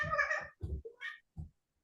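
A house cat gives a few soft, close meows, several short calls in quick succession that fade into quiet.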